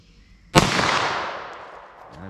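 A single sharp 9mm +P pistol shot fired at a 75-yard target cracks loudly after a quiet moment, then decays into a long rolling echo.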